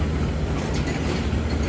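A train rumbles at a railway station platform in Pakistan, a loud continuous low drone with steady mechanical noise and no speech.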